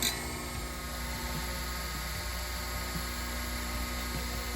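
A high-pitched whining power tool, likely a cutoff wheel, cuts steady and loud through a steel fender panel on a 1950 Ford F1 truck for about four seconds with no talking.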